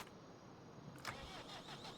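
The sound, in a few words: tractor engine starting in video game Farming Simulator 25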